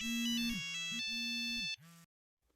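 A cell phone ringtone plays a bright electronic melody of repeated tones, loud and close, for about two seconds before stopping abruptly into silence.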